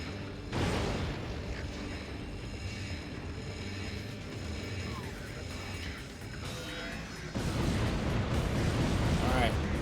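Gun turrets fire and explosions burst in Ratchet: Gladiator, a steady roar of heavy blasts and rumbling that grows louder partway through, with someone talking over the battle.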